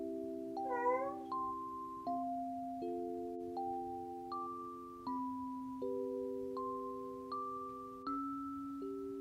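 A house cat trills with rolling, chirruping calls, a short series of rising and falling purring notes heard close and quiet in a still room at night, with no talk.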